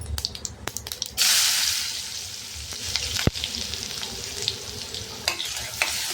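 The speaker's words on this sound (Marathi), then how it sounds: "छान परतून घ्यायचा कांदा ट्रान्सपरंट होईपर्यंत." Onion frying with cumin and a few fenugreek seeds in a pan for masoor dal amti, a steady sizzle that surges loudly after the first second and carries on close with faint stirring.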